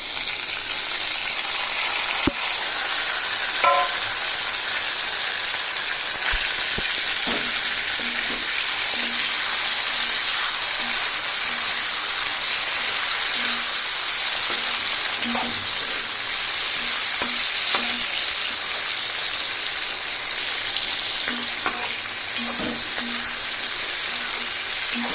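Chopped tomatoes frying in a pan with garlic, a loud continuous sizzle with occasional scraping and stirring clatter from a utensil against the pan over about twenty-five seconds.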